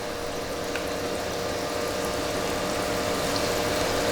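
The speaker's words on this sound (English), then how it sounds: "start frying them by dipping them into the tempura flour" Asparagus spears and prawns dipped in tempura batter frying in hot oil, a steady dense sizzle and bubbling that holds even and continuous throughout, close and fairly loud.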